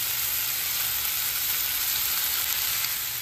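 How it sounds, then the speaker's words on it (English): Oxtails sear in a hot pan with a steady, loud sizzle that holds evenly from start to finish, with no talking over it. "I'm gonna sear"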